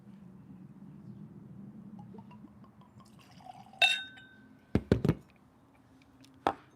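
Whiskey, a 131-proof allocated bottle, poured into a glass at a New Year barbecue: a low liquid trickle followed by a few sharp glass clinks and knocks, close and fairly quiet, with no talking.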